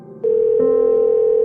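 A telephone call tone: a steady electronic tone begins abruptly, shifts pitch slightly partway through and then holds evenly and clearly, with no voices.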